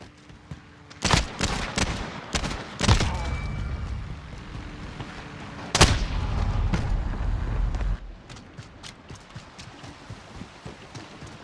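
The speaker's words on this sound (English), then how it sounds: "Cruise missile, go for launch." Cruise missile launch in a video game: a few sharp bursts open, then a loud rumbling roar from about 5.8 s that holds for two seconds before fading into quieter game noise, with no talking.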